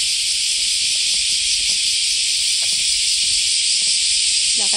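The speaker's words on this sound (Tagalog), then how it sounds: "Mag-isa lang naglalakad kasama ng mga tunog ng kuliglig." Crickets keep up a dense, continuous high-pitched trill throughout a summer morning walk, loud and unbroken, with faint scattered rustles and footsteps beneath.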